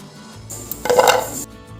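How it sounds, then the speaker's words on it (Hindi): A short burst of crisp rattling and clattering as hard fried namak pare shake in a metal strainer, close and fairly loud, lasting under a second. "तो आप इनकी आवाज़ सुन पा रहे होंगे, कितना अच्छा ये खस्ता हमारा कुरकुरारा नमक पारा बना है"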